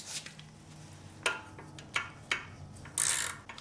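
A ratchet snugs down a bolt on an SR20DET engine block: a few short, close mechanical clicking bursts with gaps between them, ending in a quicker run of ratchet clicks.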